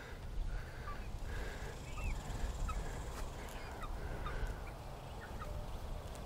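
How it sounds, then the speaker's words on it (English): Chickens roam outdoors in a fenced area behind a homestead, with scattered short clucks and calls over a steady outdoor background hum; no talking. "So the chickens get to roam in this area here behind the fence."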